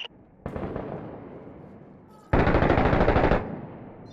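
Video game automatic gunfire from Six Days in Fallujah, an urban combat shooter: a sustained burst of rapid shots, then a quieter stretch, then a second, louder close burst that stops abruptly.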